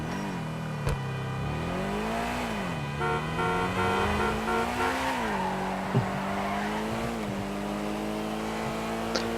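A Pegassi Toros in the video game GTA 5 drives with a wavering engine note that rises and falls as it shifts and revs, with tyre squeal mixed in during turns.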